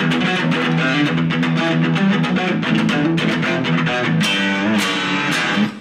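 Distorted electric guitar plays a pedal-point riff, repeating one low note with other notes slipped in between, in a steady, driving rhythm at close range.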